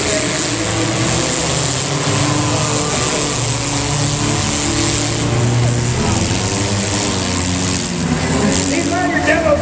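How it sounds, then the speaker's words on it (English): Demolition derby cars at the Puyallup Fair rev their engines in a steady, loud droning roar across the whole stretch, with a crowd murmuring underneath and an announcer talking over it. "These are your demo cars, so tonight we're going to see them wreck."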